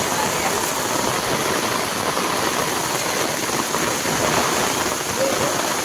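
Heavy monsoon rain pours down as a dense, continuous hiss that stays loud and steady throughout, with no clear speech on top.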